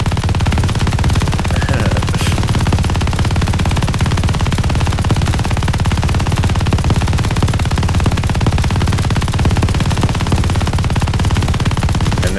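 Sustained automatic gunfire in the Call of Duty Vanguard video game, a dense, continuous stream of loud rapid shots with echo, heard alone without any talking.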